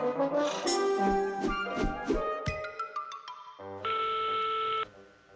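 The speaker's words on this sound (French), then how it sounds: "Oh, ils ont répondu au téléphone." Cartoon telephone call ringing and connecting: a burst of busy electronic tones and dialing beeps, then a steady synthetic ring tone that holds briefly and cuts off, loud with no talking.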